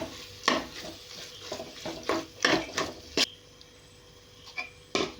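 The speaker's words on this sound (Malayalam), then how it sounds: "ഇനി ചെമ്മീൻ ചേർത്ത് കൊടുക്കണേന്." Prawns stirred into biryani masala in a pan, with repeated scraping spoon strokes over a soft sizzle, irregular and close, then a quieter stretch with a final scrape.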